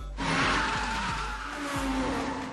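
A drifting car slides through a turn with loud tire squeal over a roaring engine, a sustained screeching skid lasting a couple of seconds, close and prominent.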